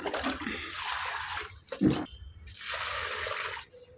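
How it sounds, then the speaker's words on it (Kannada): Water poured onto garden plants in two long, steady splashing streams, the first breaking off just before a short wet splatter, then resuming until it fades near the end. "ಫಸ್ಟು ಗಿಡಕ್ಕೆ ನೀರು ಹಾಕ್ಬಿಡೋಣ"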